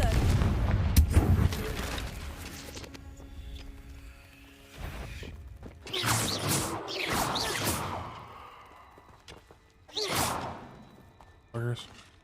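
Fiery Confringo spell blasts in the Hogwarts Legacy video game, several sharp whooshing bursts with crackling impacts spread across the stretch amid game ambience, a voice speaking between them.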